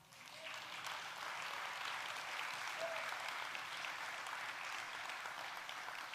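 A church congregation breaks into applause during a sermon, a steady wash of many hands clapping that swells in quickly and holds evenly, heard at moderate loudness from across the hall.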